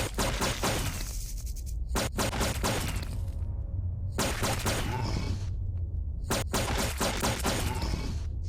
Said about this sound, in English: Prometheus laser pistol